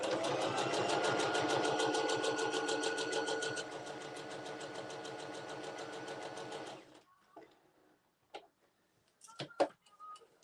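Sewing machine stitching a memory blanket, a fast, even mechanical rattle of the needle running for about seven seconds, close, then stopping, followed by scattered clicks and handling noises.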